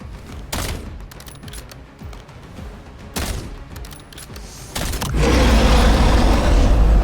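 Bursts of gunfire from the video game Black Ops 7, several sharp volleys spaced through the first few seconds, then a dense sustained roar of rapid shooting and explosions to the end, loud and close with no talk.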